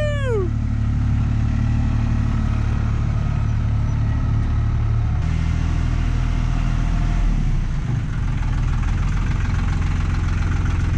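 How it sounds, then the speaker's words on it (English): A tractor's diesel engine runs steadily and loudly throughout, with a continuous low rumbling drone and a brief high squeal at the very start. "Cummins, you got the tractor going."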